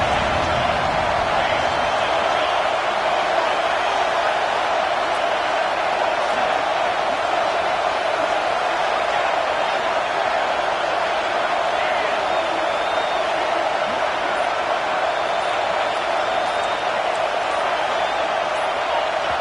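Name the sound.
crowd noise in NCAA football video game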